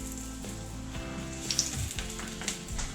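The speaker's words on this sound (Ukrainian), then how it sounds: "І обсмажуємо далі" Meatless cheburek pastries frying in hot oil, a steady close sizzle with a few brief crackles and pops, no talking.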